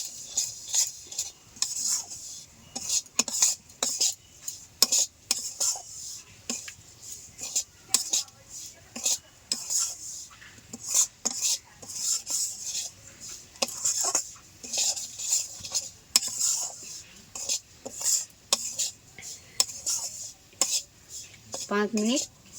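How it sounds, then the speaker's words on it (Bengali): A spoon stirs about a bowlful of semolina in a pan over very low heat, scraping and clinking against the metal in a steady, irregular rhythm with a faint sizzle underneath, close and moderately loud throughout. "সুজিগুলো নাড়তে থাকতে হবে যাতে লাল না হয়ে যায়, খুব সামান্য জাল দিয়ে নাড়তেই থাকতে হবে।"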